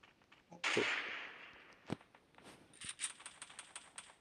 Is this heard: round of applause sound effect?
no